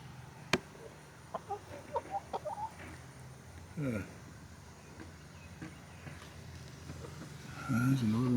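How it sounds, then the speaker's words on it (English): Chickens at a rural Franklin County, Virginia farmstead cluck in a series of short, soft calls, with a rooster-like call near the end, under someone talking quietly and low background hum. "Oh, chickens."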